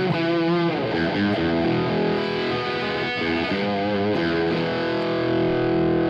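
Distorted electric guitar through a tube amp, recorded with Two Notes Genome, plays sustained chords and short riffs, drenched in a roomy club reverb that lets notes ring and blur together.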